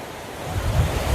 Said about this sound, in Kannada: ನೀರು ತುಂಬಾನೇ ಸ್ಪೀಡಾಗಿ ಹೋಗ್ತಾ ಇದೆ. ಇಲ್ಲಿ ಸೌಂಡ್ ಕೂಡ ಸಿಕ್ಕಾಪಟ್ಟೆ ಇದೆ.